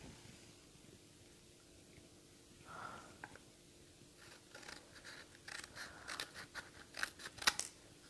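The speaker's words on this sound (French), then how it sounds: "on va couper avec un ciseau" Scissors snip through excess fabric on a handbag, quiet at first, then a run of crisp, close cuts that gets faster and louder toward the end, with no talking.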